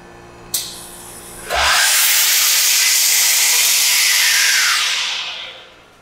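Steam blasts into a deck bread oven at 220 degrees for French baguettes, a short click then a loud, steady hiss that holds for about three seconds before tapering off.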